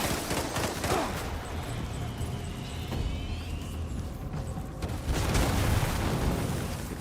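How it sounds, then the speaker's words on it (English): Fireworks exploding in repeated crackling bursts and booms, a dense rolling barrage that swells again near the end, moderately loud and continuous with no clear talking. "Fireworks pissing me off right now."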